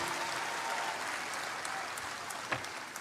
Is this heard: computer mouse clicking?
no